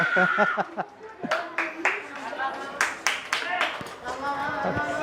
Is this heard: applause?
yes